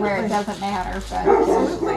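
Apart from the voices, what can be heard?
dog barking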